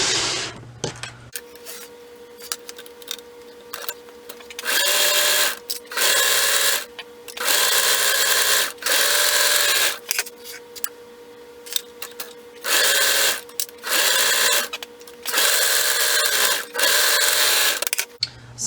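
A sewing machine stitching the seams of tights, sounding in repeated short bursts of fast, buzzing needle hum separated by brief pauses, close and fairly loud.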